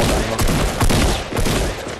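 Rapid automatic gunfire in Fortnite Battle Royale squads gameplay, a dense continuous volley of shots with repeated heavier bursts, loud and close throughout about two seconds.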